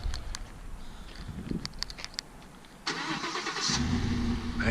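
A 2004 Chevy Duramax truck engine turns over by remote start, then settles into a steady, fairly loud idle after a few quiet clicks and rustles.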